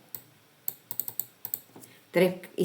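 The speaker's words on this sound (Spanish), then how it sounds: "O hago doble clic acá." Mouse clicks at a computer desk while working in Photoshop, a run of sharp, close clicks spaced irregularly, several in quick succession, followed by a brief burst of talking near the end.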